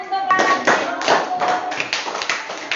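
Schoolchildren in a classroom clapping their hands together in quick, uneven bursts, close and loud, with a few thumps and young voices mixed in.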